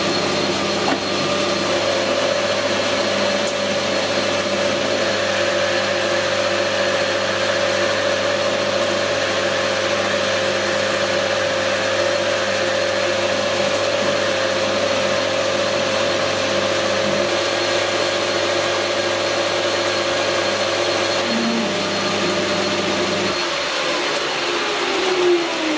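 A lathe takes a machining cut on a steel output shaft for a post hole digger, a loud steady whine and hum with a faint tone shift near the end as the cut finishes, no voices.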